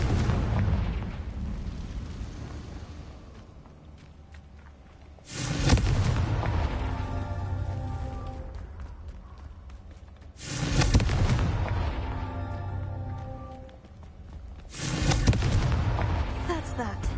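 Loud blasts from the Confringo blasting spell strike four times at regular intervals, each a sharp boom followed by a rumbling decay that fades before the next.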